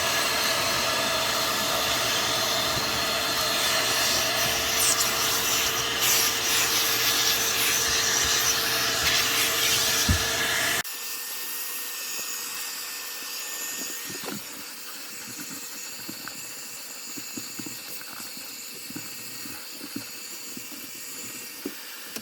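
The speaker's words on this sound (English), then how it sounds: "let's go ahead and vacuum everything up, clean up the carpet as much as we can" A vacuum cleaner works over the carpet inside a 1986 Grand Marquis wagon, a loud continuous hiss and whine that drops abruptly to a quieter, softer suction with scattered scraping bumps.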